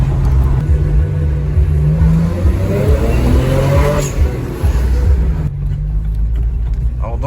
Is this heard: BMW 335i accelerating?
yes